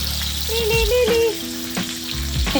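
A pork chop sautés in olive oil in a pan, giving a steady close sizzle throughout. Brief tonal squeaks and clinks of cookware are heard over the frying.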